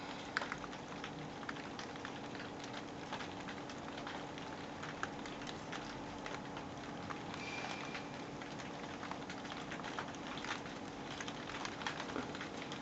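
Rain patters steadily outdoors with small scattered crackles, a constant faint wash of drops with no talk.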